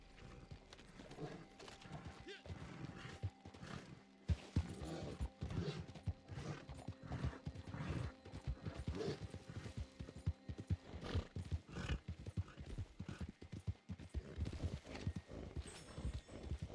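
Horse hooves clip-clop steadily through a video game, broken by repeated whinnies and neighs, all fairly close and clear over busy in-game ambience.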